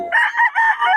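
A pumpkin bullstag gamefowl crows once, a short loud close call that breaks into a few rising and falling segments with no talk over it.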